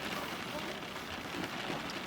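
Rain falling steadily outdoors, a dense, even hiss of drops on surfaces with faint voices in the background.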